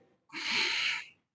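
A sharp inhaled breath taken during a dumbbell chest fly, one close, breathy intake lasting under a second, alone.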